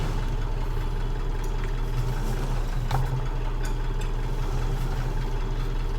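Tractor engine in Farming Simulator 19 labouring under a load too heavy for it, a steady low droning hum with a constant pitch that stays even throughout, with no speech.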